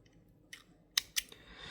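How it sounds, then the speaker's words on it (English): Scissors snip through beading thread on brick stitch fringe earrings, a faint rustle and then two crisp close cuts in quick succession in a quiet room. "I'm just gonna cut the thread."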